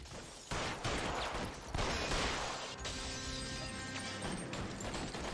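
Gunfire in L.A. Noire rattles in dense, continuous volleys, loud and crowded with sharp cracks and bursts over a busy game background, with no voices.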